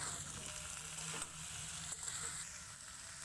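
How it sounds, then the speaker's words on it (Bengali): Boiled figs stirred into potatoes frying with spices over a low flame, a dense, even sizzle with a couple of soft stirring scrapes across a few seconds, close and with no talking. "এবার সেদ্ধ করা ডুমুর এতে দিয়ে নাড়াচাড়া করে নেব।"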